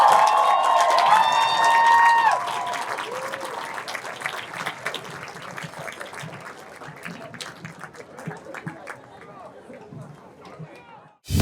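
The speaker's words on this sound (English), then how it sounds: "Now please give a round of applause to all of our senior class." Crowd applause and cheering for the senior class at a high school homecoming football game, loud at first with whistles and shouts, then fading into scattered claps and crowd chatter.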